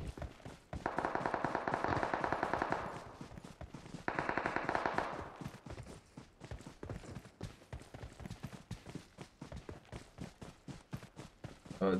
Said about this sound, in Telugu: పడుకొని ఎవరో షూట్ చేస్తున్నాడు.